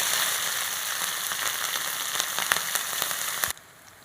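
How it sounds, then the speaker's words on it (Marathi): Green chili slices dropped into hot oil already crackling with mustard seeds and cumin for a tempering, sizzling and spattering loudly and steadily with scattered pops, then abruptly quieting near the end. "आता आपली फोडणी उडाली आपण हिरवी मिरचीच्या काप टाकून घेऊ"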